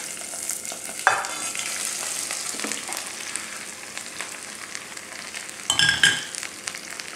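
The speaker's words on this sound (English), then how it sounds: "And we need to just fry it for a minute, quick fry." Vegetables frying in hot oil seasoned with hing, a steady close sizzle with stirring scrapes and a louder burst of crackling near the end.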